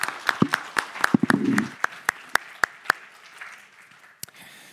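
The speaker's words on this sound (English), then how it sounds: "Once again, big applause." A small audience at a game pitch event gives sparse, scattered applause, individual claps spaced out and fading over a few seconds, with a brief murmur near the start.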